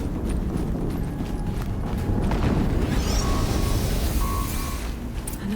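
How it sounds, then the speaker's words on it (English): Explosions boom from the video game Horizon Zero Dawn as a dense, loud rumble that stays thick and continuous throughout, with faint whooshing effects and soft tones scattered over the top. "Another explosion."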